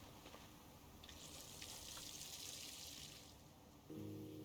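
A watering can pours water onto crop patches in the Project Zomboid video game, a soft, steady splashing trickle lasting a few seconds at low volume, ending as a brief tonal game sound comes in.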